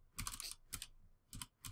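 Quick bursts of keystrokes clatter on a computer keyboard, close and quiet, in short clusters separated by brief pauses.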